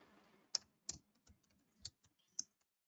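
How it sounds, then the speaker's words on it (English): Keys on a computer keyboard are typed in a quiet room, giving about eight sharp, separate clicks at an uneven pace with soft gaps between them. "Whenever I'm typing this information"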